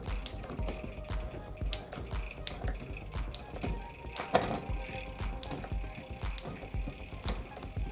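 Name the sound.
bicycle gears shifting up the rear cassette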